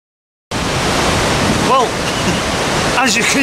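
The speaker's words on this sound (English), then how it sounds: "the river is still in flood and I am not going down there" A river in flood rushes with a loud, broadband roar of turbulent water that begins abruptly and carries on steadily, with faint wind buffeting over it.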